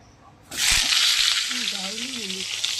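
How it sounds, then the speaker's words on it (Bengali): Dried red chillies and mustard seeds dropped into hot mustard oil, bursting into a sudden loud, sustained sizzle that continues steadily while people talk over it. "এখানে শুকনো শুকনো লঙ্কা ফোড়ন আর সর্ষে ফোড়ন এবার দেবে মা তেলের মধ্যে।"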